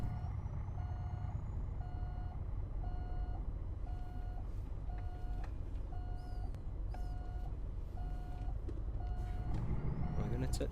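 A truck's reversing alarm in American Truck Simulator beeps at an even pace, about a dozen evenly spaced tones over a constant low engine rumble, with faint clicks and no speech.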